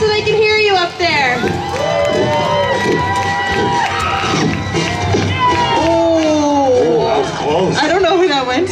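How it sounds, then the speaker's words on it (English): A large outdoor crowd at a lumberjack show cheers pole climbers racing on Canada Day at Canada's Wonderland, with loud, continuous shouting, whooping and excited voices rising and falling without a break. "Cheers so they can hear you up there."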